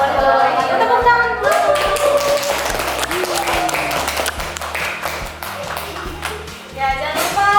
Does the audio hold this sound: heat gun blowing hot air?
no